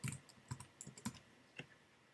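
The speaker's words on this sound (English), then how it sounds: "you just click anywhere and you just begin typing" Keys clatter on a computer keyboard in short bursts of quiet clicks, close and soft with brief pauses, and no voices.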